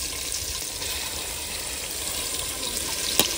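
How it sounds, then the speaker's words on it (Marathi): Marinated chicken dropped into hot oil in a pan over a wood-fired stove, giving a steady, close, broadband sizzle and hiss that holds evenly throughout with no talking. "तर तेलाच्या तडक्याचा पण आवाज यायला लागलेला आहे"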